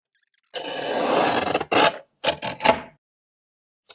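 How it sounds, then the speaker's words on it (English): A small craft trimmer slices through craft material for a Halloween spider-web decoration: one long scraping cut followed by three short, sharp strokes, close and clear in a quiet room. "Love this little trimmer"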